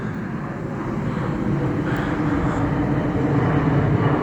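A Ryanair airplane passes overhead, a broad roaring jet rumble that swells gradually louder over several seconds, heard outdoors at a distance with no talk.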